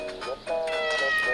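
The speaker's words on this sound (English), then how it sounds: "It's a kitten!" A kitten in the video game Miitopia gives a few short, bright meows in quick succession, close and clear against a soft game background.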